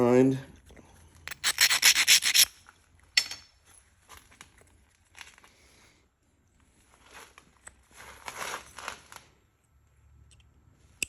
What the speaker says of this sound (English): Give it a little file. Give her edge one more little grind.